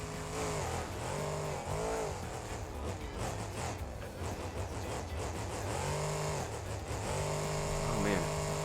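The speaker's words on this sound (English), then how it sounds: "Just slamming this truck around, dude." Monster truck in BeamNG.drive revving its engine in repeated rising and falling bursts, loud and close, with someone talking over it.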